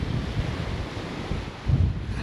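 Strong wind blows steadily across a seaside shore in Turkey on a windy day, buffeting with gusty low rumble and surf-like noise, no voices.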